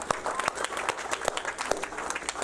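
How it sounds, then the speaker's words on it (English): A seminar crowd claps in a scattered, uneven round of applause, individual sharp claps popping out above the room as people talk over it. "Give them a huge round of applause for that Prosperity Group."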